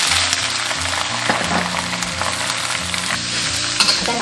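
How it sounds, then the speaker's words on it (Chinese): Beef offal stir-fried in oil with scallion whites and ginger slices in a wok, loud close sizzling with scraping stirs and occasional clinks of the spatula, no talking. "再把这些牛杂给它煸炒一下会比较香"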